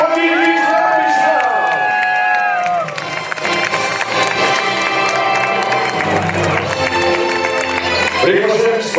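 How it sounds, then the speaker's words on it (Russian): A marathon finish crowd claps and cheers for the winners, a steady loud roar of applause under an announcer's amplified voice, with music in the background. "Аплодисменты победителям!"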